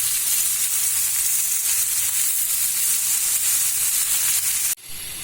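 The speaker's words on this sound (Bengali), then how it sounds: "এই পাতাকপিকে আমি কিছু সময় ভাজি করব।" Shredded cabbage fries in a pan for beef bhuna, giving off a loud, steady broadband sizzle. It holds constant for about five seconds, then drops abruptly to a softer sizzle near the end, with no voices.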